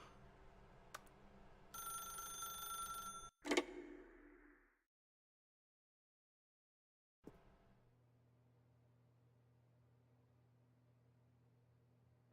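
A telephone rings in The Stanley Parable: Ultra Deluxe video game, a bright electronic ring lasting over a second, followed by a sharp clunk and fading thud, then near silence and a low steady hum.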